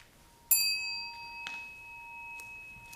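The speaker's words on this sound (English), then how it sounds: "sound the bell" A single bell struck during a Sunday service at a Zen monastery. It gives one clear metallic strike with a long, sustained ringing tone that slowly decays, with faint extra taps in a quiet room.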